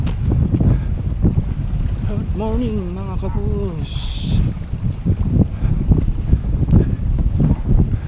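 Gusty shoreline wind buffets the microphone in a steady roar over rough, churning sea after rain, with a voice briefly heard through the blustery noise.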